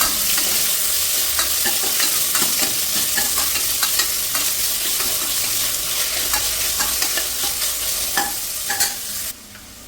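Two medium onions fry and sizzle steadily in oil in a pressure cooker for a vegetable biryani, with frequent scraping and stirring clicks over the continuous hiss.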